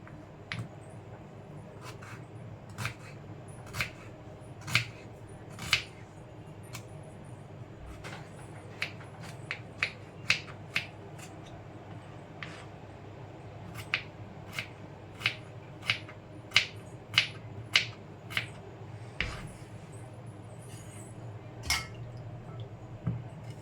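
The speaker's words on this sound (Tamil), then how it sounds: "ரெண்டு வெங்காயத்தை ரொம்பவும் பொடியாக இல்லாமல் கொஞ்சம் குட்டி குட்டியாக கட் பண்ணிக்கலாம்" A knife cuts two onions into small pieces on a board, giving a long run of sharp, close clicks in an uneven rhythm, sometimes in quick clusters, over a quiet background.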